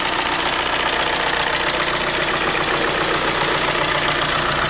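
A Volkswagen Amarok engine runs after a start attempt, a loud, constant close-up rumble with an even, slightly rough idle and no talking.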